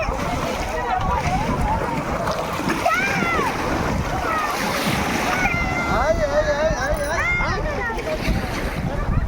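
Sea waves splash and slosh against a small boat on the Gulf of Mannar near Dhanushkodi in the Indian Ocean, a steady wet churning with voices calling over it throughout.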